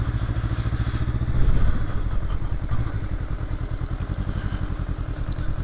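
A 2023 Honda SCL500 Scrambler idles and rolls slowly onto a gravel campsite, its steady mid-pitched engine throb close by, with gravel crunching and a brief surge partway through.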